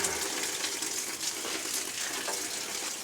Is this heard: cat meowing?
no